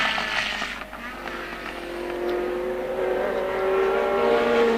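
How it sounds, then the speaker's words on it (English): Formula One cars at the 1970 British Grand Prix at Brands Hatch, a continuous high engine roar swelling as cars rush past, loud and steady with rising pitch toward the end. "And there's Jack Brabham coming up to start his last lap"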